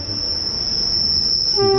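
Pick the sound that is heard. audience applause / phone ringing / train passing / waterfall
train passing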